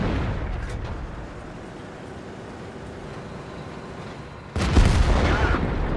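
A Super Pershing tank cannon fires in World of Tanks, a sudden loud boom late in the clip after a stretch of low rumbling ambience.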